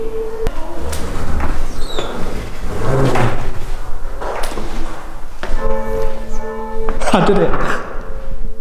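A bell is rung inside a disused, abandoned church, giving a few clanging strikes with ringing tones that are mixed with knocks and handling noise. Someone talks briefly over the ringing.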